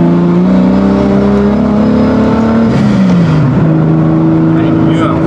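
A car is driven with a loud, steady engine drone and shifting tonal whine as revs rise and fall, close and continuous throughout.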